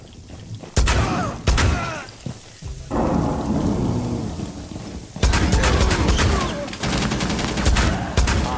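Shotgun blasts in the video game Rainbow Six Siege, with several loud booming bursts separated by gaps and heavy rumbling tails that fill the clip. A voice is faintly present.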